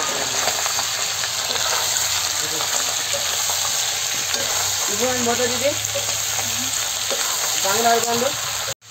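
Local chicken meat fries steadily in a hot pan, a continuous close sizzle running the whole time, with brief speech-like voice traces passing over it midway.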